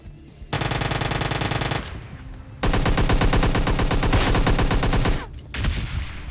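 Automatic rifle fire in the video game PUBG: two long rapid bursts of shots, loud and close, with a short pause between them and a few scattered shots at the end.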